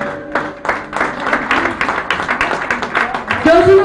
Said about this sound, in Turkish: Ben bir alkış istiyorum kardeşime.